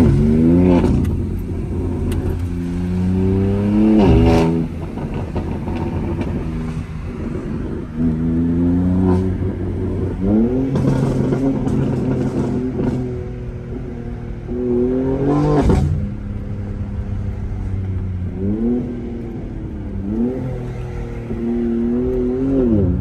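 A BMW M3 Competition fitted with downpipes pulls hard through the gears, its loud engine rising in pitch repeatedly and dropping sharply on shifts and downshifts, heard from inside the cabin with no talking.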